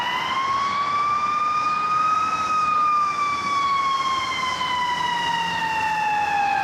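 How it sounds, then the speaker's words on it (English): An ambulance siren wails loudly and close by outside a baseball stadium loading dock, its tone rising and falling in one long sweep with no other sounds over it. "oh, got an ambulance."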